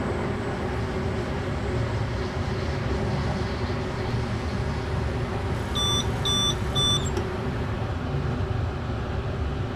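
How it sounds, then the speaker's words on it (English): A train cab signal system on the Gotthardbahn in Train Simulator 2021 gives a short series of clear electronic beeps, about four pulses, over the steady low rumble and hum of the moving locomotive. "We've now got the beeping at the signal, indicating that the signal speed restriction has been rescinded"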